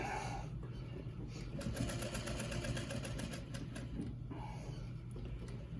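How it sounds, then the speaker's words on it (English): Sewing machine running steadily as it stitches pleats into a cloth face mask, a continuous close mechanical whir with rapid needle chatter, loud and unbroken for the whole stretch with no talking. "I'm just sewing it down, sewing those pleats right into the mask"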